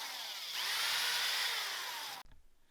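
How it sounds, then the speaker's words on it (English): A power drill bores a pilot hole in wood for a cell phone stand, a loud continuous whine lasting about two seconds with a slight pitch drop, then cutting off abruptly. "I'm going to go ahead and pre-drill this hole"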